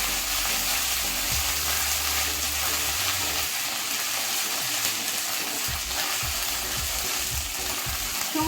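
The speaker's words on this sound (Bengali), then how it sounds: "হালকা কষিয়ে নেব।" Ginger and spice paste sizzles and fries steadily in a pan for a chicken curry, with a constant loud crackle and occasional stirring scrapes and clinks near the end.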